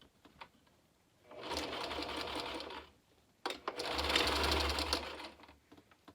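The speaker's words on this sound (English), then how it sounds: "I'm just going to do a straight stitch all the way down to kind of make this into a loop" A sewing machine runs a straight stitch in two bursts of steady whirring, each lasting about one and a half seconds, separated by a brief pause, close and clear with no talking.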